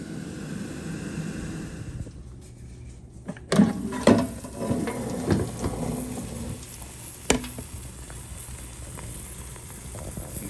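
Steady whirring fan noise from a COSORI Turboblaze air fryer cooking wings, a low continuous drone with a few light clicks and knocks over it.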